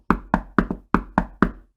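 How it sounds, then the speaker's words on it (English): Hard, rapid knocks bang on a wooden door, seven sharp close raps in quick, slightly uneven succession, loud and alone. "Who is that banging on my door like a mad person?"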